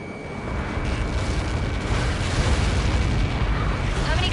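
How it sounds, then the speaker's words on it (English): Large explosion impact in the Ace Combat 7 video game, heard as a sustained roaring blast rumble with a dense low boom that swells and holds throughout, loud and continuous, with no clear talk. "How many got caught in that explosion?"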